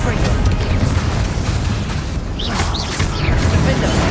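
In Hogwarts Legacy, a Confringo blasting spell goes off as a loud, sustained rumbling boom amid dense, noisy game action. A few brief whooshing tones rise near the end.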